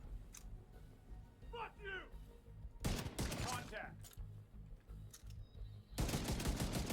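Rifle fire in The Division 2 comes as short, sharp bursts of shots, a quick cluster near three seconds and another at six, over a low game background with a brief flutter of effects between.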